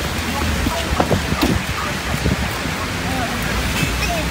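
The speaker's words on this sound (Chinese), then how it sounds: "这雨也不停" Steady heavy rain pours down outside a small eatery during a downpour, a dense even hiss that fills the whole stretch, with faint scattered voices and clatter in the background.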